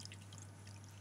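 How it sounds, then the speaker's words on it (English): Warm water is poured into a baking tray around ramekins of miso eggs en cocotte to make a bain-marie, a quiet steady pouring hiss with a low constant hum beneath. "Fill it up halfway with some warm water."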